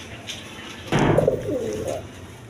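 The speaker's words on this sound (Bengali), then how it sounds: "এইখানে এক পেয়ার কবুতর আছে, দেখেন রাসগোল্লা কবুতর" A pair of Rasgolla pigeons coo in a bird shop, with a single close, throaty, rolling coo lasting about a second over a quiet background.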